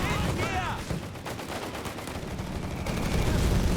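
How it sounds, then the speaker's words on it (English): Automatic gunfire exchanged in a Company of Heroes 3 battle, dense continuous rattling bursts with distant rumbling, loud and unbroken throughout, with no talking. "It's a heavy exchange of automatic fire."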